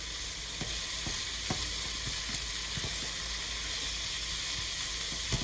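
Fajita vegetables seasoned with salt and pepper sizzle steadily in a pan, a dense continuous frying hiss with occasional stirring clicks, close and alone.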